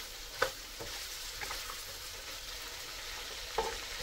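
Vegetables for lumpiang gulay spring rolls fry gently in a pan until half cooked, a soft continuous sizzle with a couple of light clacks from stirring, fairly quiet and without speech.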